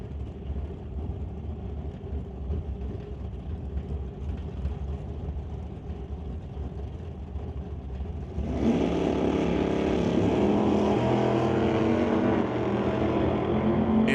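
Drag race cars, a Chevy Vega and a Chevy Monte Carlo, roar together in a steady loud engine drone that jumps sharply louder partway through as they launch and accelerate.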